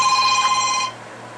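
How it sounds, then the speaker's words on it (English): A mobile phone rings with a bright, steady electronic tone that holds for just under a second and then cuts off abruptly, leaving faint background hiss. "excuse me, my phone's ringing."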